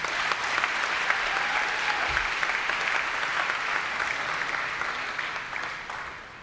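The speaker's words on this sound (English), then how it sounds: "we can still give her a round of applause." Graduation ceremony crowd gives a round of applause for a graduate, dense steady clapping filling a hall, holding level before fading out over the last seconds.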